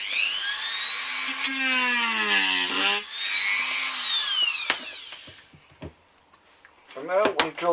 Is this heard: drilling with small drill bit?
yes